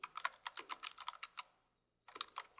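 Someone types a web address on a computer keyboard in a quiet room, a quick run of crisp close keystrokes, a short pause, then a few more taps.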